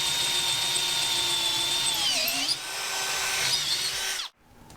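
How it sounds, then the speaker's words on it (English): A steady high-pitched drill whine grinding through steel clamped in a vise, holding for several seconds with a brief dip in pitch, then abruptly stopping. "I've clamped them together in the vise while I drill the holes."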